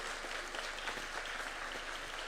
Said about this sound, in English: Why don't we give them a clap as they come in